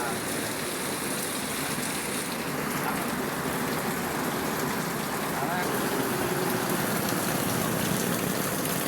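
Steady, dense patter of heavy rain drumming close by on a phone cover, continuous and loud throughout with no pauses.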